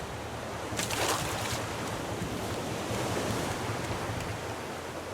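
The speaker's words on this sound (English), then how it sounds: "The waves are messing me up." Ocean waves in the survival game Raft wash in a steady, broad surf roar with wind noise, one slightly louder swell early on, and no voices.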